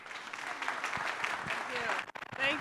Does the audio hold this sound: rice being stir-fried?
no